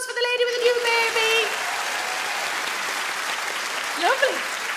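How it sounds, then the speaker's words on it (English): Comedy-show audience applause, a steady, broad roar of clapping from a large crowd held for several seconds, with a brief voice or tone heard over it at the start and near the end. "Round of applause for the lady with the new baby."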